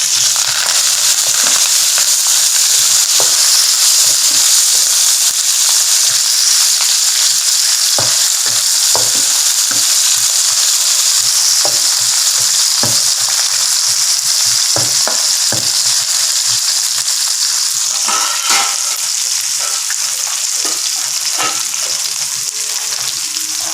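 Onion, chili and curry leaves stir-frying in hot oil, a loud steady sizzle close up with repeated scrapes and knocks of a spatula stirring the pan, no talking.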